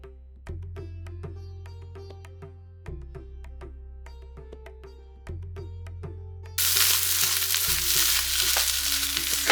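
Rava and cooked dal frying and being stirred in a pan for rava pongal, with a steady sizzle, spatula scrapes and clinks repeating in rhythm, and the frying swelling louder near the end.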